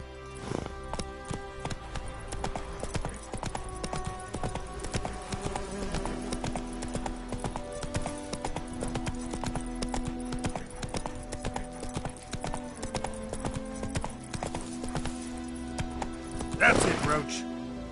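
Roach, a horse in The Witcher 3, gallops with a rapid, rhythmic clip-clop of hooves over continuous game music, with a short whinny-like burst near the end.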